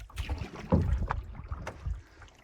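A solo canoe is paddled on calm water at Restoule Provincial Park, with close, uneven paddle strokes, soft splashes and gurgles, and light wind brushing the microphone.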